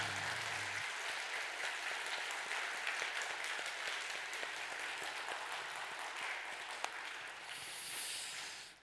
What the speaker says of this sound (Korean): 우리 힘차게 박수합니다